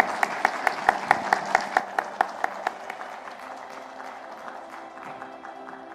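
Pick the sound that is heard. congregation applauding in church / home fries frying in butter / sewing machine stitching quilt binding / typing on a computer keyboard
congregation applauding in church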